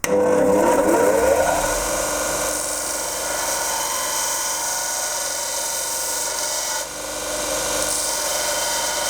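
Metal wood carver's punch being hand-smoothed into a rounded face, a steady rasping, filing scrape up close that starts loud and then continues evenly, with a brief dip near the end and no speech.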